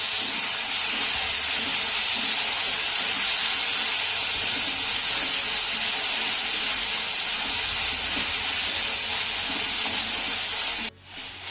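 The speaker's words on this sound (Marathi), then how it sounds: "हे टोमॅटो आपल्याला एक ते दोन मिनिटं चांगले परतून घ्यायचे आहेत" Two chopped tomatoes sauté in a hot pan with a steady, even sizzle and hiss that runs unbroken for several seconds before cutting off abruptly near the end.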